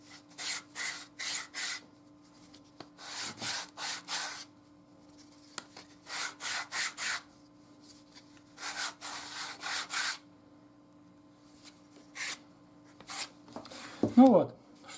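Sandpaper is worked along the cut edge of a handmade sheath in repeated short bursts of rubbing strokes, with brief pauses between groups, close and moderately loud.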